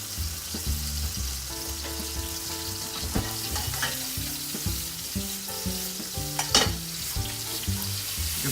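Ginger and brown sugar fry in a pan for a sticky glaze, giving a steady close sizzle with clinks and scrapes as they are stirred, plus a few sharper knocks.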